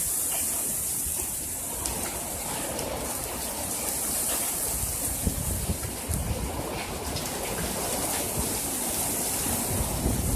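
Hail falls during a thunderstorm as a dense, continuous rattling patter with a broad hiss, steady and close throughout.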